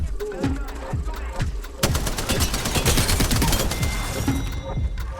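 Spitfire light machine gun firing sustained automatic bursts in the Apex Legends video game, a loud rapid rattle of shots that runs almost without a break after a few shorter bursts at the start.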